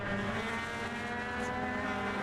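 Legends race cars racing on a track, engines droning in a steady harmonic whine at a moderate distance, several cars blending into one continuous sound with no talk.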